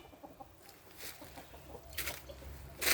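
Chickens cluck and fuss in the background, a few short calls rising over a low outdoor rumble, with a louder burst near the end.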